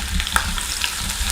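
Green chilies and grated ginger fry with cumin seeds and dry red chilies in hot oil, giving a steady close sizzle with stirring scrapes throughout.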